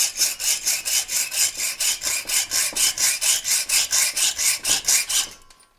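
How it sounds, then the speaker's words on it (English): A hacksaw cuts through the top of a metal bolt in steady, fast back-and-forth strokes, each a bright rasping hiss, roughly four strokes per second, close and loud, continuing without pause until it stops at the end. "Should be fairly easy to cut off with a hacksaw."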